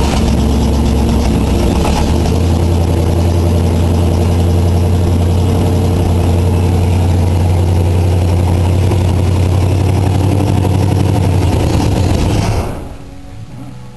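Cadillac engine cranked and running, a loud steady mechanical clatter and hum with a rattling, ratchet-like edge that holds for about twelve seconds before suddenly cutting out, with no talk.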